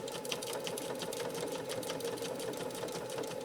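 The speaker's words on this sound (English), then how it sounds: "the presser foot pressure that's automated on this machine is doing a pretty good job of maintaining that material and feeding it" A Janome 3160 QDC sewing machine stitches a pattern in a fast, even, continuous run of needle strokes, close and unbroken, with no talk over it.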